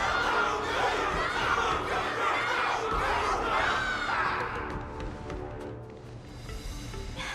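A large crowd roars and cheers continuously at a live battle event, a dense wash of shouting voices and excited calls that stays loud throughout and eases slightly near the end.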